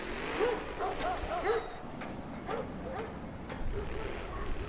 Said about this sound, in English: So I'm hearing dogs in the background.